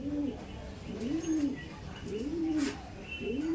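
Young Andhra Madrasi pigeons coo in a steady series of rounded, rising-and-falling calls, close and clear, repeating roughly every second over a soft background hiss.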